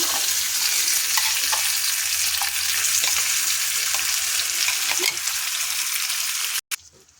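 Ground raw mango chutney is stirred into a hot tempering with asafoetida in a pan, giving a loud, continuous close sizzle with soft stirring scrapes before a sudden cutoff near the end.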